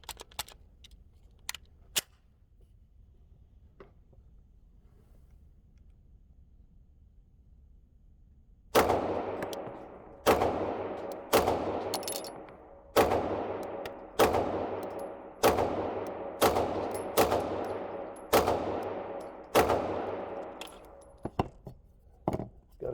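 A few faint early clicks, then about a dozen sharp, evenly spaced shots from an Archon Type B airsoft pistol, each a loud snapping crack with a short metallic ring, close and steady, with no voices.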